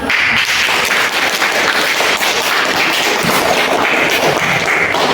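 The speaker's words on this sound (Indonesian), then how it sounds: "Tepuk tangan." A classroom of pupils claps hands together in loud, close, choppy applause that runs unbroken for a few seconds.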